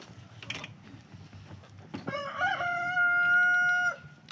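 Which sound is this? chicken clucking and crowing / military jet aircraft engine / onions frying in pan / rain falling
chicken clucking and crowing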